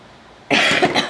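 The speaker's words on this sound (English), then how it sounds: "I still have a little bit of a cough." A single loud, close cough bursts out after a moment of near silence, harsh and breathy with a short rough tail.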